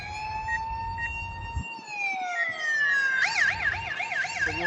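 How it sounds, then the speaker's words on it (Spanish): Police siren blasted from the loudspeaker of a DJI Matrice 400 drone during a night surveillance test, a loud, steady electronic wail that gradually drops in pitch, then switches to a rapid warbling yelp. "ya habéis visto cómo suena una sirena de policía"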